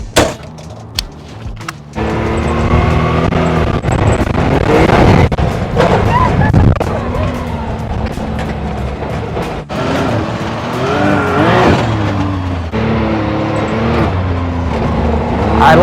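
Can-Am Maverick X3 side-by-side with a three-cylinder EFI engine running on a dirt test track, loud engine roar rising and falling with revving, tire and chassis rattles, and brief quiet stretches.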